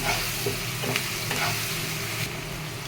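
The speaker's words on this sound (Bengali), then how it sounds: "নুন দিয়ে আমি আবারও ভালো করে নাড়াচাড়া করে দেবো।" Onions frying with salt are stirred in a pan, giving a steady close sizzle with scraping spoon strokes throughout, no voices.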